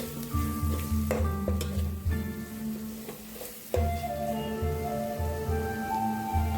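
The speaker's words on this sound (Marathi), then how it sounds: "तर मसाले टाकून झाल्यानंतर आपण चांगल्या प्रकारे परतून घ्यायचे आहे." Spices and onions stir-fry in a pan for chicken dum biryani, a loud, close, continuous sizzle with rhythmic scraping strokes of a spatula and brief bursts of crackling.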